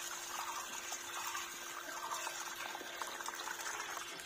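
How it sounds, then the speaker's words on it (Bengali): Water gushing out fast and steady while a small garden mini pond is drained and cleaned, a continuous faint rushing flow with no voices. "প্রচুর স্পিডে জল দিয়ে যাচ্ছে"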